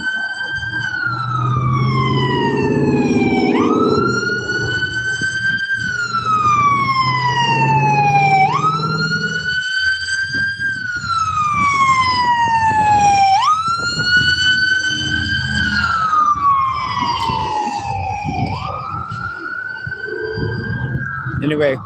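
Loud emergency vehicle sirens wail close by in repeated rising and falling sweeps that carry on for the whole stretch, with some muffled voices and traffic noise beneath at first.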